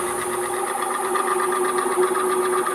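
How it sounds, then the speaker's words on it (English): A 120-volt AC blower motor being replaced for an air conditioner runs slowly and labors, giving a steady droning hum with a strong tonal whine and faint rattling vibration, continuous and close throughout. "And this motor is not operating at its proper speed."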